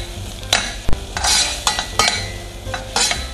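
Tomato paste stirred into garlic in a pan, a few close scraping strokes of a spoon against metal with a soft underlying sizzle, short and rhythmic.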